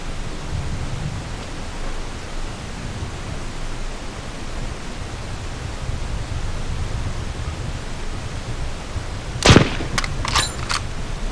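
One sharp, loud sniper rifle shot in the ZombiU zombie survival game, followed by a few quick mechanical clicks, standing out from steady hissing background noise.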